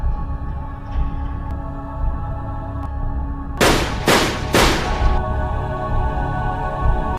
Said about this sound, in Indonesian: tepat saat Naomi melepaskan 3 tembakan.